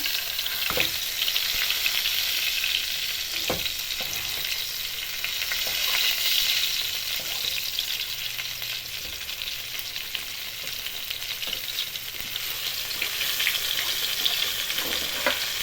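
Thai-style fish frying in a pan, flipped partway through: steady, loud, crackling oil sizzle running throughout, with a few sharper knocks and scrapes from turning, close and with no talking.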